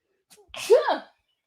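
A single loud, close sneeze from someone who is coming down with a cold, a short sharp intake followed by a forceful burst, alone with no talk.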